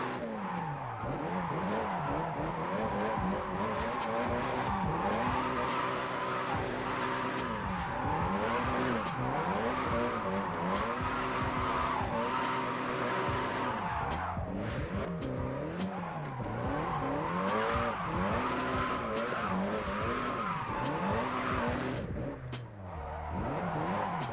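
Car drifting with squealing tires in the video game JDM Drift Master, engine revving and falling steadily through repeated slides, loud and continuous throughout with no talking.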